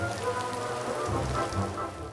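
Rain patters steadily on surfaces during an outdoor street theatre performance, a dense even hiss close by with no voices.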